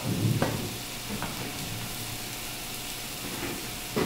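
Cauliflower florets sizzle steadily in a hot pan, a continuous close frying hiss with a few brief clattering stirs.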